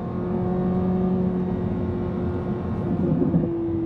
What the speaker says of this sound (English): The sounds, like the burbles, the exhaust